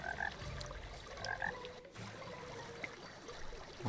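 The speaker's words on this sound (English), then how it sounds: "Lots of frogs, apparently." Frogs croak in a video game jungle, their repeated calls scattered and fairly faint over a low trickling water ambience, with no talking.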